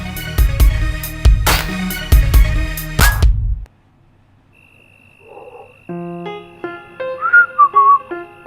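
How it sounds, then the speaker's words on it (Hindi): Mouth whistling in a short melodic tune, heard alone after a burst of loud background music cuts off, the clear whistled notes rising and falling at close range. "मुंह से सीटी और चाल में उछाल"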